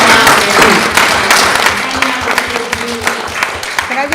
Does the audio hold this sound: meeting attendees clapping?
yes